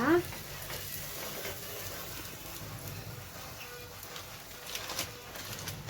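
Butter sizzles faintly on a pizza dosa in a hot pan, a soft steady frying hiss with light stirring, heard alone at low level.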